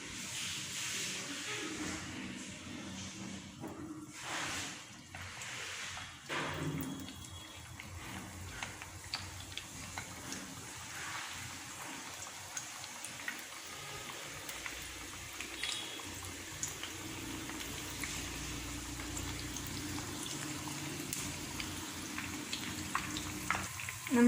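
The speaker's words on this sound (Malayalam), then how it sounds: "ഇനി നമുക്കിത് ഫ്രൈ ചെയ്തെടുക്കാം" Sweet potato fritters frying in hot ghee in a pan over low flame, a steady soft sizzle and hiss with small pops and scrapes throughout, close by.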